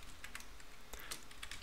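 Rapid keystrokes on a computer keyboard while entering equal signs in code, a quick run of crisp, close clicks with uneven rhythm and no voice over them.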